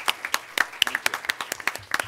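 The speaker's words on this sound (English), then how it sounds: "I think everybody should give Commissioner Henning a round of applause" Applause at a county board of commissioners meeting: a small audience claps in a brisk, uneven run of sharp close claps that carries on for a couple of seconds.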